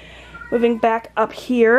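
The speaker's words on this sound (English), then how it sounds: "I apologize if you can hear my cats in the background crying." Domestic cats cry in the background, a series of drawn-out meows rising and falling, overlapping a person talking nearby.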